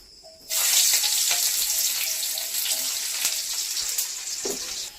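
Onion hitting hot oil in a kadai sets off a sudden loud sizzle that stays strong and steady, then tapers slightly, with a few faint clinks of a utensil.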